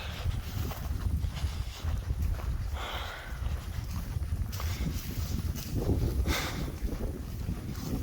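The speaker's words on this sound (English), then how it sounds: "Full of wind." Steady wind blows outdoors beside a large lake at Yellowstone, a broad continuous rush with gusty swells and buffeting against the microphone, nearby and fairly loud throughout, with no talk.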